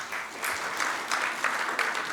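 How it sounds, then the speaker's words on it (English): Applause from an audience at an evening business gathering comes in a brief, moderately distant wash of many hands clapping at once. "A big round of applause."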